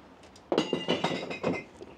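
Empty glass bottles dropped into a bottle bank outside a supermarket in Torrevieja, Spain, crash and clink in a rapid run of five or six loud, bright smashes over about a second and a half.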